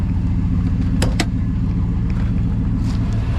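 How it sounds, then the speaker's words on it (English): A pickup truck engine idles close by with a steady low rumble and a fast, rhythmic ticking like a bad lifter, broken by a couple of sharp clicks. "it sounds like it's got a bad lifter or something"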